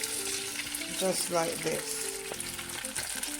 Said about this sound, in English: anything that I boiled, I would fry it up just the same,